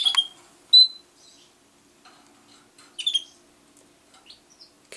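A female canary in a cage gives a few short, sharp cheeps and whistles with quiet gaps between them, close and clear against near silence.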